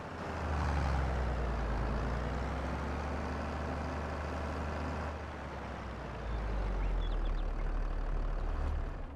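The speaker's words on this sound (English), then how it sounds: "I'd like to see him at work and his sounds. This tractor here" A tractor engine in Farming Simulator 22 drones with a deep, steady rumble and low growl, holding a constant load with a slight shift partway through as it works.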